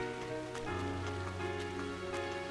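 Steady rain pattering on surfaces in a JRPG, a dense even hiss of drops with soft splashes laid over sustained tonal game music, no voices.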